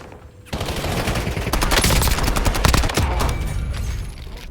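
Sustained automatic gunfire from Warzone, a dense fusillade of rapid bursts that starts after a brief quiet moment and keeps roaring loud and close to the end.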